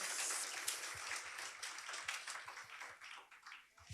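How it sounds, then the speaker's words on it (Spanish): A church audience at a women's worship service applauds the men, with quiet, fairly distant clapping of many hands that gradually thins out. "Un aplauso para los varones"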